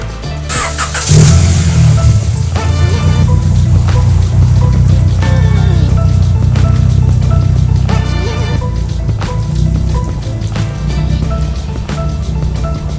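A car starts and idles with a loud, close engine rumble, then revs a few times in short rhythmic surges as it is driven into a garage. No voices are heard.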